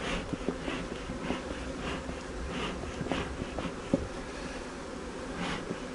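Honeybees hum in an opened hive with a low, continuous buzzing drone close by, faint but steady, with small clicks and rustles from the hive and no speech.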